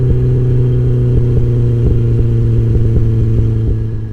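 Mazda MX-5 Miata on a coast or back road, its steady engine drone and road rumble loud and constant with faint ticking, fading slightly at the end.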